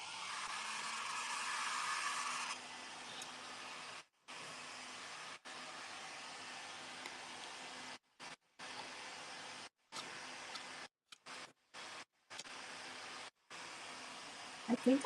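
A dryer blows onto a jute craft panel. The whoosh is loud for the first few seconds, then drops to a steadier, softer rush with brief cutouts, and a faint voice comes in near the end.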